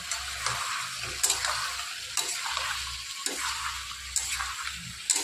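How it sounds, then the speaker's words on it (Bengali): Chopped bottle gourd goes into a pan with sugar for a prawn curry, hissing and sizzling steadily as the pieces are stirred, with scraping and clattering close by. "এখানে আমি দিয়ে দিলাম কেটে রাখা লাউগুলো।"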